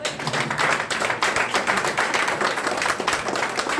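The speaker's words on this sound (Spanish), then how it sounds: "Dale un aplauso al Señor." Church congregation applauding in praise during a service, dense continuous handclapping that fills the space at close range.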